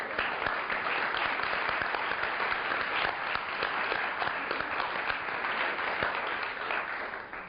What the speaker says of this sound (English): I think we should give them a clap.